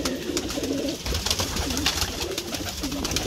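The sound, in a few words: baby pigeons cooing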